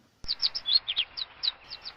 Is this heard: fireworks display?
no